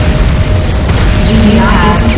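Ion cannon blast destroying the GDI weapons factory in the video game Renegade: a loud, sustained, rumbling boom with a dense low roar lasting throughout.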